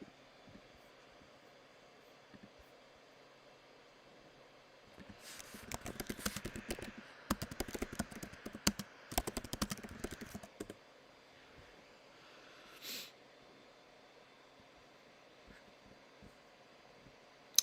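Fingers typing on a computer keyboard in quick bursts of clicks over a few seconds, with a faint background hum before and after.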